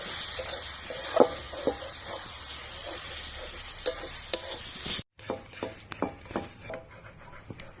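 Coriander powder, turmeric and chilli powder being stir-fried in a pan for egg tadka, with a steady sizzle, scraping stirs and a few sharp clicks from the spoon; after a brief cut, quieter stirring scrapes continue.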